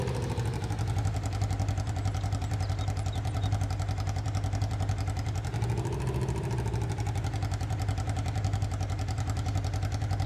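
A Polaris off-road vehicle engine runs at a steady, close, loud idle-like drone, its rough mid-range rumble continuous with slight rises in pitch.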